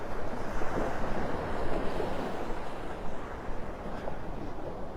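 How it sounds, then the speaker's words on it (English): Waves breaking continuously on Vanderbilt Beach in North Naples, Florida, with strong wind buffeting the microphone, a steady loud rush of surf and gusts with no voices. "The wind kicking up those big waves."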